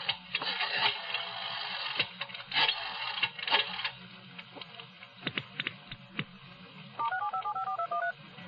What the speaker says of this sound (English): I tried to call Lou again.